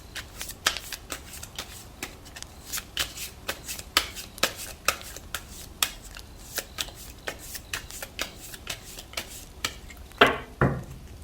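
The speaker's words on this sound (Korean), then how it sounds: "추가 카드 뽑을게요" Tarot cards are shuffled and drawn by hand at close range in a steady run of crisp riffling flicks and snaps, ending in a louder burst of quick shuffles.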